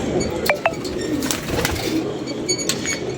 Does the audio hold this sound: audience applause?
no